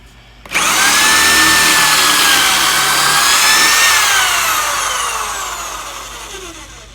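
A power drill bores into a wooden base cabinet carcass, starting abruptly with a loud, steady high whine that holds for several seconds and then gradually winds down as the bit slows.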